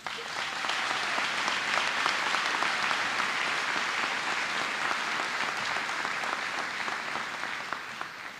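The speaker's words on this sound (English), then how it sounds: "I think they all deserve a round of applause." Audience applause for school staff at a high school graduation ceremony, with steady, dense clapping from a large crowd across the whole stretch, fading slightly at the end.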